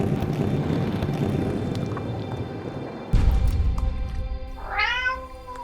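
A pet cat gives a single short meow near the end, heard after a stretch of windy outdoor rumble and a sudden low thud, fairly close and clear, with no talking.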